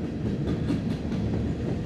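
A freight train rolls past close by near Nortonville, Kentucky, a steady loud rumble of wheels with faint clickety-clack over the rails, no voices.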